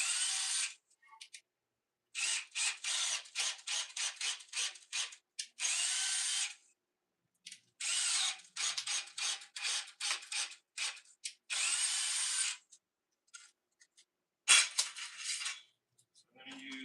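A power drill drives deck screws into wood at close range, with many short trigger bursts and longer whirring runs separated by silent gaps.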